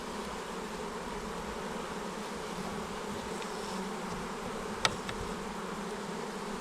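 Honeybees from a well-populated hive, opened for its first spring inspection, give off a dense, continuous buzzing drone that stays loud and close throughout, with one brief sharp knock partway through.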